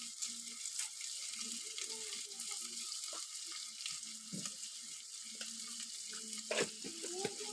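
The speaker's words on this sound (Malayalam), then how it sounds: "അപ്പോൾ ഇനി ഉള്ളി നല്ലോണം മൂപ്പിച്ചെടുക്കാം കേട്ടോ." Onions fry in a pan with a quiet, continuous sizzle, accompanied by occasional light scrapes and clinks of stirring nearby.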